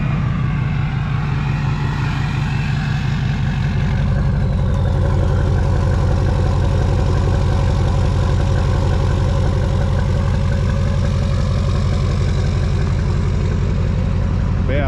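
A modified LBZ Duramax diesel pickup truck idles loudly up close, a deep, steady rumbling drone with an even low pulse that runs unbroken throughout, no voices over it.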